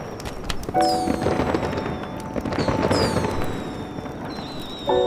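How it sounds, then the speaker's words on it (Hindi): Firecrackers bursting in the sky during a celebration, a dense crackling barrage of pops and bangs with whistling streaks rising and falling, loud and continuous, with no voices. "पटाखे तो आसमान में फूटते हैं"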